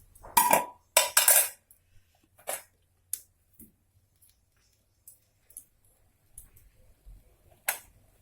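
A pot of cooked rice being lifted off a clay stove, heard as a few sharp metallic clanks and scrapes close by, then scattered lighter knocks and taps with quiet pauses in between.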